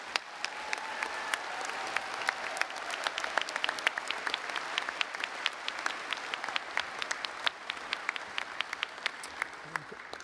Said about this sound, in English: let's give them a giant round of applause